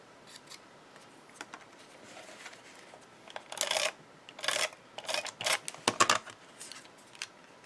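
Scissors trimming a paper layer on a holiday bridge card, heard as a quiet stretch followed by several short, crisp snips cutting through paper at close range, with no talking.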